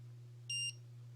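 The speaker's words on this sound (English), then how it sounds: "slide it forward, it'll beep." A single short, high electronic beep from a Contour ROAM2 action camera starting to record, over a low steady hum, otherwise quiet.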